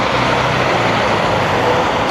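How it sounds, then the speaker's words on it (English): A garbage truck driving along a busy Times Square street at rush hour, a steady loud diesel engine rumble with surrounding traffic noise, no talking. "It's garbage truck."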